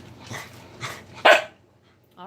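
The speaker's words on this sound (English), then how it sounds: "The dog is saying hello." A dog barks three times in a row, close and clear, with the last bark loudest, and a short voice follows at the end.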